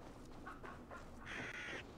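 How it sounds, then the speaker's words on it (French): Crows cawing in the video game Assassin's Creed Valhalla, several harsh caws in quick succession, the last one longer and louder, faint and set against quiet ambient background without speech. "Des corbeaux."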